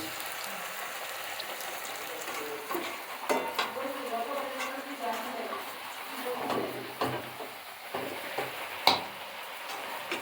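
Luchi frying in hot oil, puffing up, with a steady broad sizzle and crackle of oil throughout and occasional sharper pops and clinks of utensils at a market food stall.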